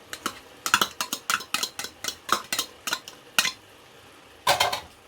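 Chopped onions and carrots stirred into a Jamaican meatloaf mixture in a bowl, a rapid run of close utensil clinks and scrapes, then a brief pause and a final burst, with no talk.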